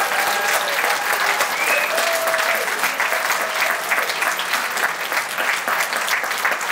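A crowd at a Hall of Fame induction ceremony gives the new class of inductees a sustained round of applause, loud, even and continuous throughout, with occasional whoops rising above the clapping.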